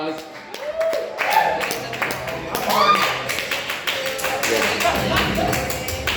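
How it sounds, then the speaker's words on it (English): Comedy-night crowd at Bar9 in Port Angeles claps and cheers for an executive producer, a dense, sustained burst of applause with a voice talking over it throughout. "Give a round of applause."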